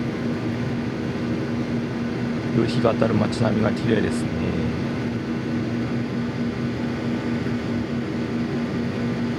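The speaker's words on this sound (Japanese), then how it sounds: "飛行機が宮崎空港の滑走路に離陸していきます。" A passenger plane taking off from the runway at Miyazaki Airport, heard from inside as a loud, steady engine roar that lasts the whole time, with someone talking briefly in the middle.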